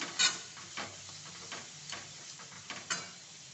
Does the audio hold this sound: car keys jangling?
no